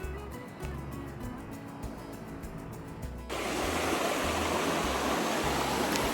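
River water rushing beside a long suspension bridge on New Zealand's Abel Tasman Coast Track, a steady broadband flow that swells abruptly louder midway as the stream comes closer, with no talk.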